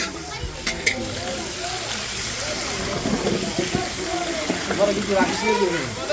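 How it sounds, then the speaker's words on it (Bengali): Water poured into a pan of sizzling potato gravy, giving a steady loud hiss and bubbling sizzle that holds throughout, with voices talking underneath. "কষানো হয়ে গেছে এখন আমরা জল দিয়ে দেবো"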